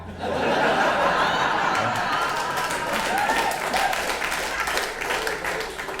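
Audience at a live stand-up comedy show applauding and chuckling, a sustained wash of clapping mixed with laughter and crowd murmur, a voice briefly over it.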